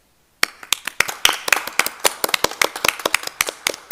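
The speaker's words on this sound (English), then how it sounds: "we applaud them because they've done a wonderful job" Sharp, fairly close claps ring out at a school board meeting, a small audience applauding in a quick uneven rhythm after a brief silence.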